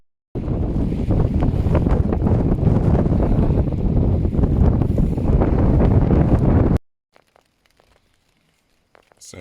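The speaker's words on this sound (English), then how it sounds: "The wind's not moving it too badly." Blustery wind beside a Scottish loch buffets a tent, a loud continuous rush for several seconds that cuts off abruptly into near silence with a few faint clicks.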